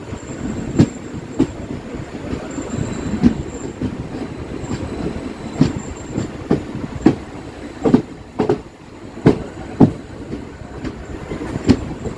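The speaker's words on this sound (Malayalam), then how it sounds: "ട്രെയിൻ അങ്ങനെ മെയിൻ ലൈനിലോട്ട് പ്രവേശിക്കുന്നതിന്" Poorna Express (11098) rolling along the single-line Konkan Railway from Kerala toward Goa, heard from aboard: a steady low rumble with repeated sharp clacks of wheels over rail joints at an uneven rhythm, close and fairly loud, with no talking.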